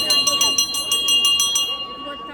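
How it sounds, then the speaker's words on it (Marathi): Temple bells at the crowded Mahalaxmi temple ring in a quick, steady series of bright strikes over a murmuring crowd, fading out near the end. "अजून वाजवा घंटीवर घंटी वाजवा."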